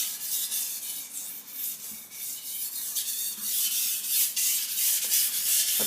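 A knife is sharpened on a Shapton Ceramic Pro whetstone with slurry on the surface, making a steady close hiss of blade strokes scraping back and forth continuously, with no talking.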